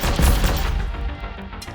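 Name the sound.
autocannon firing in the video game Mainframe Defenders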